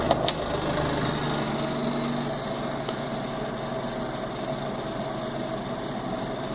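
A vintage Hurricane 12-inch box fan motor runs with a steady, even hum and airy whoosh through restrictive grills, with a faint rattle, continuous and close throughout.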